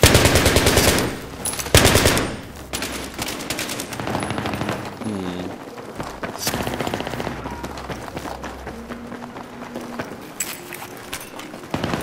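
Machine-gun fire rattles in rapid bursts during a Battlefield 3 Team Deathmatch match, loud and dense, with single shots and the crackle of distant gunfire between the heavier bursts.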